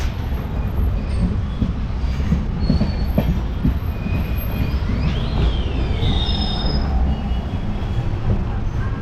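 Loud, continuous rumble of a passenger train leaving Bhavnagar, with rhythmic clatter and occasional high metallic wheel squeals, heard from close by.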